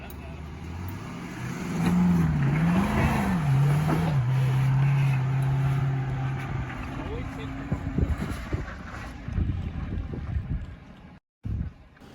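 A Jeep Grand Cherokee engine revs under added throttle while climbing slick rock on the Hell's Revenge trail near Moab, a rising and wavering drone with wind noise that fades into rougher rumbling, with voices talking over it.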